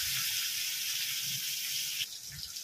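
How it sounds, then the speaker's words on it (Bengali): Rohu fish pieces fry in hot oil with a steady, close, bright sizzle and hiss that runs throughout. It softens slightly near the end, and faint low rumbles sit beneath it. "বাকি মাছগুলো আবার আমি ভেজে নেব"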